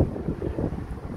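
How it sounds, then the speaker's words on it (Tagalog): Strong wind on a mountain in Hokkaido, Japan, buffets the microphone in a constant low rumble, gusting unevenly with no voices. "Ang lakas ng hangin"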